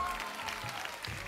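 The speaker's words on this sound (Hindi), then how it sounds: "तालियां इनके लिए।" Studio audience on a live Ramadan iftar television show applauds in a brief burst of steady clapping, fairly faint and with no voices over it.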